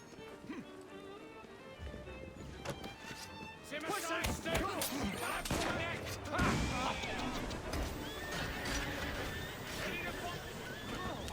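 Horse in the Assassin's Creed Syndicate video game, with neighs and clip-clopping hooves over busy game sound effects and crashes, while a player talks throughout.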